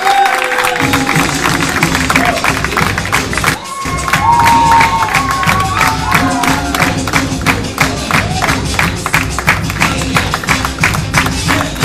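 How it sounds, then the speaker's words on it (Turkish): Audience applause and cheering for the stage performers at a live show, dense steady clapping from a crowd lasting throughout, with a brief dip partway before it swells again, loud and close. "Lütfen en güzel alkışları sahne arkadaşlarıma, yoldaşlarıma, yol arkadaşlarıma."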